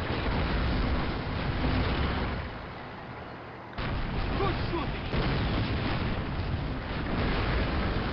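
Gunfire in the Call of Duty game, the player firing from long range: dense, continuous rattling shots and booms fill the scene, easing briefly in the middle before resuming at full intensity.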